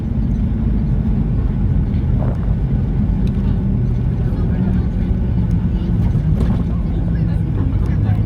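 Ryanair Boeing 737-8AS with winglets landing at Gothenburg using idle reverse thrust, heard from the cabin as a loud, steady broadband rumble of engines and airframe with a few sharp knocks, continuous throughout.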